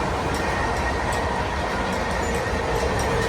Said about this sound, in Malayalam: ഓപ്പോസിറ്റ് ഒരു ഗുഡ്സ് പോകുന്നുണ്ട്.